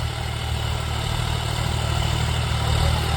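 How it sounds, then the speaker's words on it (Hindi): John Deere 5105 tractor driving an 8.5 ft Maschio rotavator through soil, a continuous low diesel rumble with steady churning, close and loud with no talk. "बहुत ही अच्छा रोटावेटर चल रहा है मतलब।"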